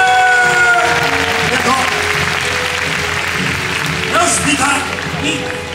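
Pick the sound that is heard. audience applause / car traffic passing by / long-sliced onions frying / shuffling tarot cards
audience applause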